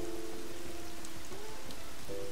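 In the video game Stranger of Paradise, rain falls as a continuous, even hiss of drops on surfaces, fairly loud and close, with soft held musical notes beneath and no speech.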